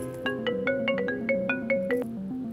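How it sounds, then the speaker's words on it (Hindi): A melodic electronic phone ringtone plays alone, a repeating pattern of bright tones with a steady pulsing rhythm, fairly close and clear. "फोन बज रहा है।"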